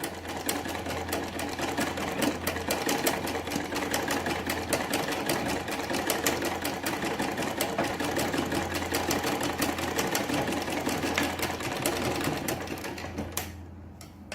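A sewing machine stitches kurti fabric in one continuous fast rapid-fire run, loud and close with a steady motor hum, slowing and stopping at the very end.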